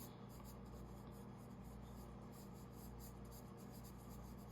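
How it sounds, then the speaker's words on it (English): Graphite pencil shading a value study on paper, a steady continuous scratchy rubbing of the lead held close and even throughout, with no talking. "color with a pencil"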